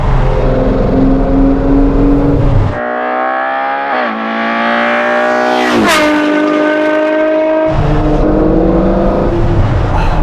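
A Ferrari Purosangue fitted with a Novitec exhaust pulls hard in sixth gear on a cold road, its engine note rising loud and close, dipping briefly around a shift and climbing again as it revs.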